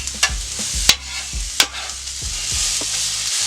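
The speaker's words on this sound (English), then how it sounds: "First thing I want to do, throw my onions on" Onions sizzle steadily in a hot pan for caramelizing for a pastrami and turkey sandwich, a close bright hiss punctuated by a few sharp clinks and stirring scrapes.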